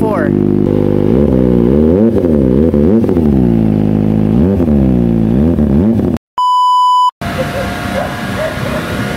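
A Kawasaki Ninja ZX-25R inline-four motorcycle engine revs repeatedly in rising and falling sweeps, close and loud, then a short electronic beep sounds before quieter idling and background noise.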